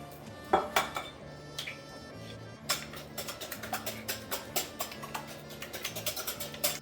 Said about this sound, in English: I'm just going to whisk 2 eggs together.